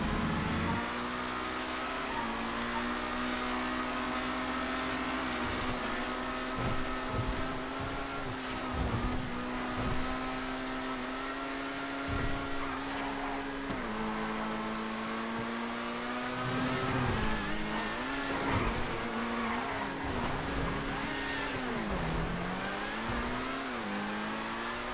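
The RE7B race car's engine in GTA FiveM drones and revs continuously for the whole stretch, pitch climbing and dipping with gear changes and throttle, loud and close with no talk.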